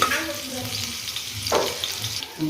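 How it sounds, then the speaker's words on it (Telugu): Ginger sizzles in hot oil in a pan while citron pulihora is being cooked, a steady close crackling fry with a short stirring scrape partway through. "ఫస్ట్ అల్లం ఫ్రై చేసుకోవాలి"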